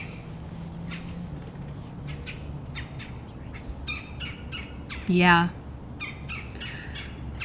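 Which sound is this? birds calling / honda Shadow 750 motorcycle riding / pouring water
birds calling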